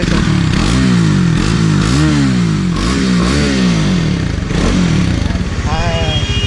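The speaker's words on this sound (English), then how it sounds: "This exhaust has much more bass in it because of the dual exhaust in it." A 2019 Bajaj Dominar 400 motorcycle's dual exhaust revs repeatedly in strong rising and falling bursts, deep and bassy, close by, settling toward a lumpy idle at the end.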